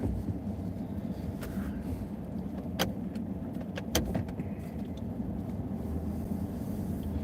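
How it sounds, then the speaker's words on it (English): A car on a street in historic downtown Stevenson, Alabama, near the railroad tracks: a steady, close engine and tire rumble that holds throughout, with a couple of brief clicks. "We have a car behind us, so we're gonna let them go."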